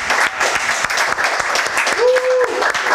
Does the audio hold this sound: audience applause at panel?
yes